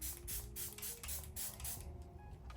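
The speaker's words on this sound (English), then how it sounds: "the spritzer chooses when it wants to actually spray correctly" Milani Make It Last setting spray bottle spritzing in several short bursts with faint hissing mist, fairly quiet, alone without talk.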